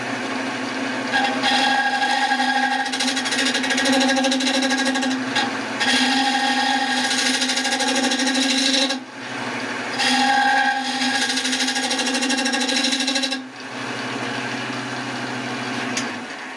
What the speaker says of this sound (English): Now with the David Ellsworth gouge, freshly sharpened, clean up the inside.